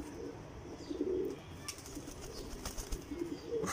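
Pouter pigeons cooing at close range, two soft low coos about a second apart and another near the end, over a steady murmur of background noise.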